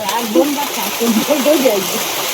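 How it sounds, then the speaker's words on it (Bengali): Steady rain hisses in the background as a person talks over it. "হঠাৎ করে বৃষ্টি নেমে আসছে তো"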